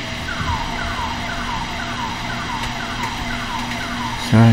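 A long rising-and-falling wail from the Siren Head creature in a horror video game repeats steadily at moderate distance over a constant droning background, ending with a sudden louder low tone.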